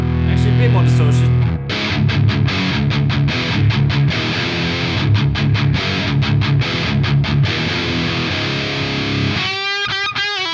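Loud high-gain electric guitar runs through a KMISE US Dream distortion pedal with more distortion dialed in, playing chugging, palm-muted rhythm chords that end in a brief squealing, sliding flourish.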